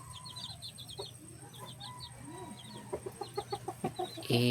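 Chickens, young chicks among them, cluck and peep nearby in a farmyard setting, soft chirps early on giving way to a run of louder rhythmic clucks near the end.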